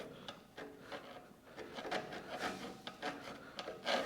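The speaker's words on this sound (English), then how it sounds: "so just take a file to the weld" A hand file scraping down a weld on a mini metal lathe, repeated rasping strokes at a steady rhythm, fairly quiet and close, no voices.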